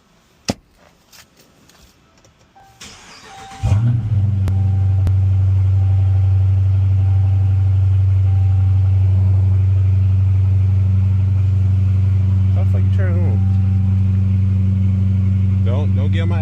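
A Hemi-powered Chrysler 300C engine cranks and catches at about four seconds, then settles into a loud, steady, deep idle rumble that runs to the end, with a few faint sounds over it.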